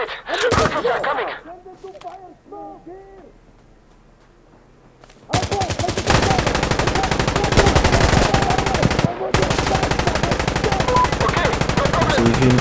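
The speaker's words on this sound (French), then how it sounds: "J'ai vu une mitrailleuse tirer" Sustained machine-gun fire in the video game Insurgency Sandstorm, Push mode on the Farmhouse map, opens with a few loud single shots and faint voices, then after a quiet gap breaks into long, dense, loud automatic bursts with a brief pause.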